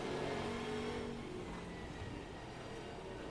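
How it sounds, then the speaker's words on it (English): Race car engine in Assetto Corsa at Brands Hatch Indy, a steady loud engine roar with a high whining tone that shifts and fades slightly as it carries on, without speech. "this is what race cars sounded like to me when I was a kid"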